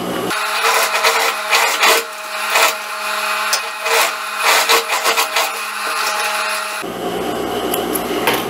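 A sewing machine topstitches the shoulder seam of a sport-collar jacket, running in bursts of fast rhythmic stitching with brief pauses and a stop near the end, loud and close.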